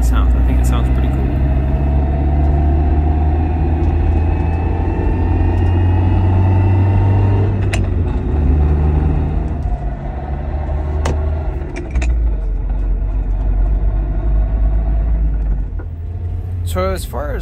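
A car with a worn, failing throwout bearing runs with a loud, steady engine drone and a rumbling, mechanical whine that rises and falls slightly. A voice is faintly present beneath it.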